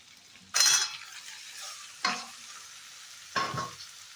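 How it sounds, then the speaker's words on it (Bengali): Ground cumin, coriander and Kashmiri red chili powder with half-boiled taro stirred and fried in a pan, three separate bursts of sizzling and scraping, the first loudest, with quiet frying between. "এর মধ্যে দেবো একটু জিরে গুঁড়ো একটু ধনে গুঁড়ো একটু কাশ্মীরি রেড চিলি পাউডার খুব ভালো করে এটা কষিয়ে নেবো"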